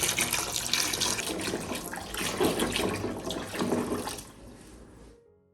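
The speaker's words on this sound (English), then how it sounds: "Then pour in enough water to completely submerge the eggs." Water pours steadily into a bowl of eggs, a loud splashing gush that trails off and cuts out near the end, with no voices.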